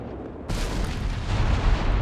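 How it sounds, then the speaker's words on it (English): An artillery barrage in the video game Company of Heroes 3 bursts in suddenly and keeps up a loud, continuous rumbling roar of shell impacts. "I was thinking surely this barrage is over now, but no, he's got the extra Vet 1 shells now."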